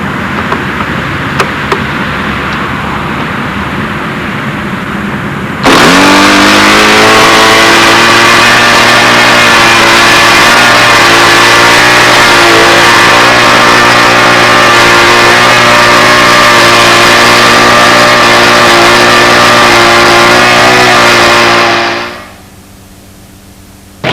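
A Jett 50 model aircraft engine starts and runs at steady high revs for about sixteen seconds during prop testing, loud and close with a sustained buzzing whine, then cuts off abruptly, leaving only wind noise.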